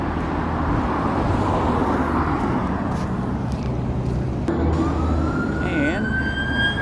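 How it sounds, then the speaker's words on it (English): An ambulance siren wails and rises over steady traffic noise on a street in San José del Cabo, Mexico, growing clearer toward the end with a swooping pitch. "Ambulance."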